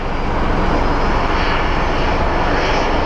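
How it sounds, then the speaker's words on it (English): Small Airbus jet taking off at Sky Harbor International Airport for St. Louis, a loud, continuous engine roar with broad rushing noise that stays steady and close throughout. "Little baby Airbus headed to St. Louis."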